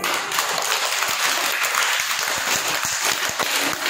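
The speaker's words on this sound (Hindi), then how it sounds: "जोर जोर से ताली बजाओ" Children in a classroom clap loudly together for a classmate's colouring work, a dense, steady burst of applause with scattered sharper individual claps running throughout.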